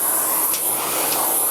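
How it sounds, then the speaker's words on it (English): Vacuum nozzle run over both sides of the front cover of an Intellipure 468 air purifier, giving a steady, loud airy hiss that holds evenly throughout with no talk. "Vacuum both sides."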